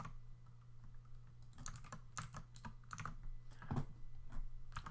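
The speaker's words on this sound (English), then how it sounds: "we're now hard typing the link into our web browsers of choice" Fingers type on a computer keyboard, a quick irregular run of soft clicking keystrokes over a low steady hum, fairly faint and close, with no talking.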